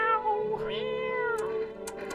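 A cat meows in one drawn-out, rising and falling call, fairly close and moderately loud, with no talking over it.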